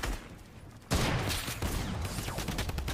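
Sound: gunfire shooting a wall in the video game Fortnite

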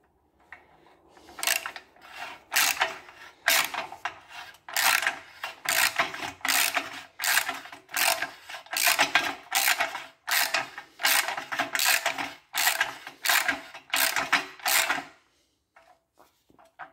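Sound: ratchet tightening bolts on VW Beetle cylinder cover

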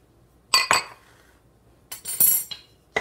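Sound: stirring banana bread batter with egg in a bowl

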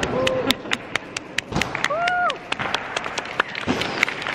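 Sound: group clapping

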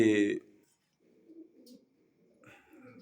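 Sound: pigeons cooing

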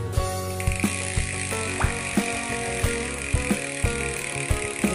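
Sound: bicycle rear hub freewheel ratchet clicking

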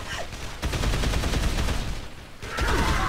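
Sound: gunfire in Dead Island video game

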